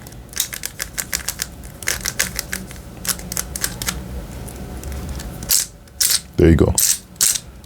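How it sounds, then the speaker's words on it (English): A Rubik's cube with one misplaced magnet is twisted in a quick series of sharp plastic clicks and clacks, close up, with a brief spoken remark partway through. "one of the magnets are misplaced, and you hear it in the cube."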